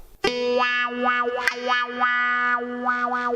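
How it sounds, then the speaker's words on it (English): Guitar notes run through a pedal wah effect on a Boss ME-8 multi-effects pedal, the tone sweeping up and down repeatedly in a rhythmic vocal-like wah with distortion, played alone and loud. "Starting with number 1, a pedal wah."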